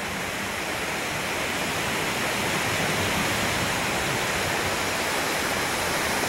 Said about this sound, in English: the ocean in the background, standing on the rock